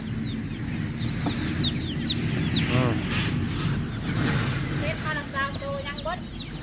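Chickens cluck and a rooster calls near a rural home in Laos, repeated short clucks and rising calls scattered over several seconds above a low background hum, with a person talking underneath.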